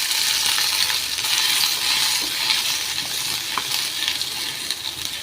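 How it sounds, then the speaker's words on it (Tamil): Onion, tomato, ginger, garlic, curry leaves and green chilli frying in a pan for street-style peas masala, with a steady bright sizzle and occasional stirring clinks, close and alone with no voices. "வெங்காயம் தக்காளியும் கொஞ்சம் சாஃப்டாகிற வரைக்கும் ஃப்ரை பண்ணிக்கோங்க"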